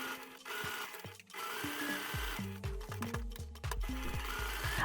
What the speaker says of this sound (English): I sew 2 lining pieces.